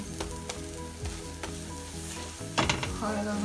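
A single pancake fries in hot oil in a pan, a steady close sizzle with occasional crackles and a burst of louder spattering near the end.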